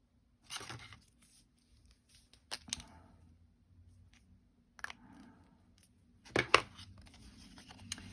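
Scissors snip through card paper while a small Christmas card is being made, a few short crisp cuts scattered across a quiet tabletop with gaps between them.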